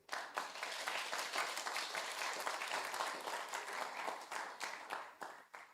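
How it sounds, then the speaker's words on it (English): Applause from a community awards audience fills the moment, a quiet, fairly distant wash of many hands clapping steadily before trailing off. "Clap them again"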